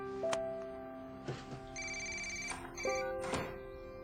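A phone ringtone plays a repeating electronic melody of clear tones at moderate volume, with brief knocks and handling sounds between the notes.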